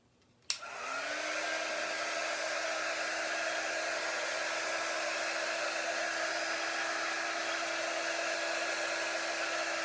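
A heat tool switches on with a click and blows a steady, loud, even whoosh to melt wax on a decorated Christmas wreath, running without pause at close range.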